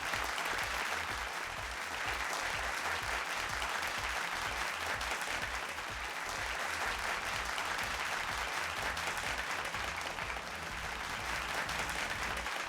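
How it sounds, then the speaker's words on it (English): Sustained audience applause at a televised school quiz pentathlon between Royal College and St. Sebastian's College, a steady, full roar of clapping from a large crowd lasting over twelve seconds without a break. "Let's put our hands together."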